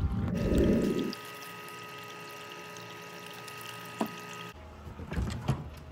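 Gold-mining material fed into a water-run sluice gives a brief burst of pouring and splashing, then water runs steadily through the machine under a mechanical hum, with a few faint knocks near the end.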